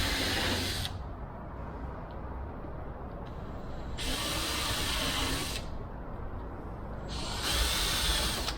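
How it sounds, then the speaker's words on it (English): Three bursts of a power drill spinning up while drilling holes in a wooden aircraft build, each lasting a second or two, separated by a lower steady hum; close and fairly loud. "I can just drill the other holes"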